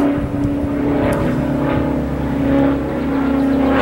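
A dual-engine propeller airplane drones overhead near an airport, a loud, steady engine hum that swells and fades slightly as it passes, heard alone without talk.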